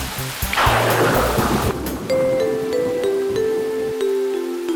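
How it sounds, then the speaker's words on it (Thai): Heavy rain pours down steadily while a deep rumble of thunder rolls through at the start, then fades under the downpour. "และฝนก็ตกหนักมาก"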